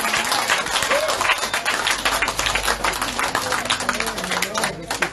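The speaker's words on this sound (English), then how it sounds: "Give her one more round of applause" Audience applause at the opening ceremony of a centre for persons with disabilities: sustained, dense clapping from a crowd, loud and steady throughout with no break.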